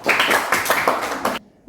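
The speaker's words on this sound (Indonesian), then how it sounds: "tepuk tangan buat Ananda Tiur" A classroom of students claps for a classmate, a quick burst of close, uneven hand claps that stops abruptly into near silence.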